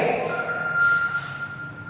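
A telephone rings briefly with a steady electronic tone, close and moderately loud, during a pause in a maths lesson.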